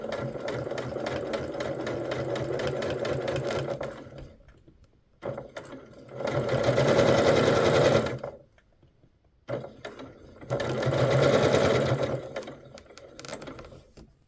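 A sewing machine stitches quilt block fabric in three sustained whirring runs with a mechanical rattle, separated by short pauses, heard close and alone.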